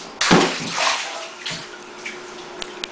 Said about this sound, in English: Turkey's gotta get thawed out in cold water.